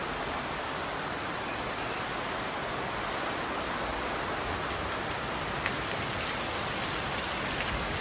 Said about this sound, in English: Yeah, it's a little rainy.